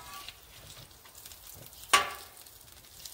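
Bacon and eggs frying on a Blackstone griddle, a soft steady sizzle with one sharp scraping clack partway through, no talk over it.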